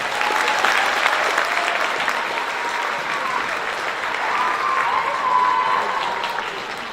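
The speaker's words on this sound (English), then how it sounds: "Give them a round of applause." Applause fills a school early signing ceremony, with many hands clapping steadily for about seven seconds and a few voices murmuring underneath.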